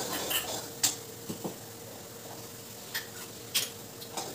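A spoon mixing chili paste into gongura chutney, giving scattered light metallic clinks and scrapes against the bowl with quiet gaps between them.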